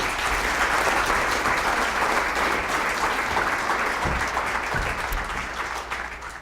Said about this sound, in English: A round of applause for Jay.